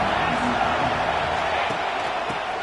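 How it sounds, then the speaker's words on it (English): Stadium crowd noise from a college football video game, a steady, dense roar of many fans that holds at an even level throughout, with faint scattered cheers inside it and no clear talk. "This crowd ready to make its presence known."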